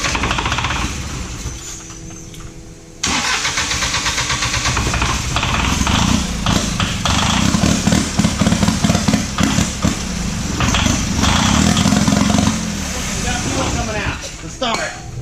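Old diesel engine, run on stale contaminated fuel after sitting five years, cranks then catches and keeps running with a loud, steady, rough clatter; people talk over it.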